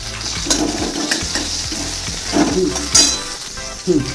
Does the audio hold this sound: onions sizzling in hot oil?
yes